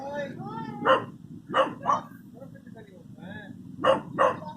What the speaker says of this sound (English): oh, the dogs are barking their heads off